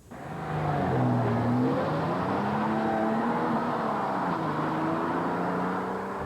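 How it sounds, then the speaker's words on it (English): A BMW car with a 2.7-liter six-cylinder ETA engine drives along, its smooth engine note rising and falling steadily as it accelerates, loud and close, with no voices. "This engine is so smooth. I think it's one of the smoothest six-cylinders I've ever driven."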